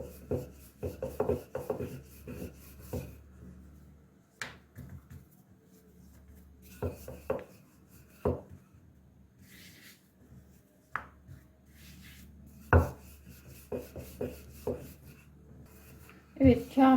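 A rolling pin rubs and thumps as dough balls are rolled out with a little flour on a wooden surface, a soft scraping texture broken by occasional knocks, with a voice speaking over parts of it.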